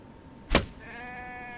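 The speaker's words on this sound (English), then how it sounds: "Yes, I can hear you, sheep." A single sheep bleat in a blocky crafting video game, a sudden loud wavering cry followed by a steady electronic tone humming in the background.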